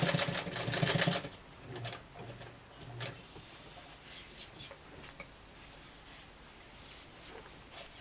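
A sewing machine stitching a small tinder bag, with a loud rapid run of stitches at the start, then quieter clicks, ticks and handling noises scattered across the rest, close by and without speech.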